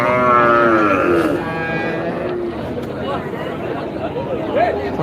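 Cattle at the Manapparai cattle market in India give a few loud, drawn-out moos over a busy background of crowd chatter and general market noise.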